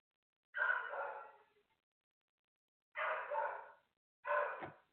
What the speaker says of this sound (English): And anyone that speaks puppy, Lucas is saying ask him questions also.